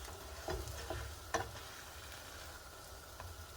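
Buttermilk cornbread patties fry in a big hot skillet, giving a faint, steady sizzle with a few soft ticks and scrapes from moving them around, and no talking.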